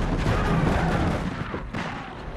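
Heavy gunfire from big guns in a western cowboys-and-monsters video game set in Gold Rush towns, loud dense booming blasts running continuously with no pause.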